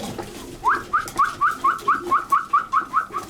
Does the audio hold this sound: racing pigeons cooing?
yes